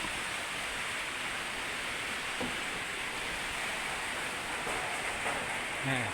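Steady rain falls as a dense, even hiss throughout, with a few faint brief sounds near the end.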